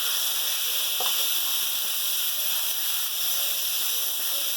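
Finely minced keema frying in a pan on very low heat makes a soft, even hiss and sizzle throughout, with a few faint scrapes near the start, and no voices.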